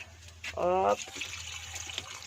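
Water is poured into a cooking pot while making chicken afritada: one short pour of about half a second with a rising, ringing tone, close by over a low background hum.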